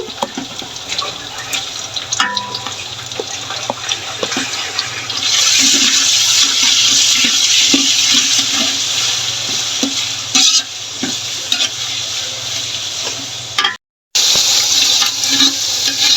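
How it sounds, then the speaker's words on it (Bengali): Ginger-garlic paste and garam masala are stirred and fried in a pan, a loud, steady sizzle with scraping spoon strokes that swells midway and cuts out briefly near the end. "এখন আমি এখানে আদা রসুন বাটা মিক্স করছি"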